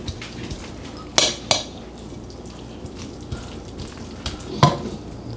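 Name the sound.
stirring melting cheese with a spoon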